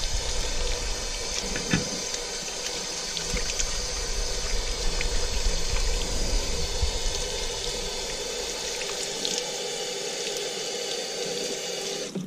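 Tap water running steadily over a hunting knife being rinsed, with a constant splashing stream close by and a few knocks and clinks from handling, with no voices.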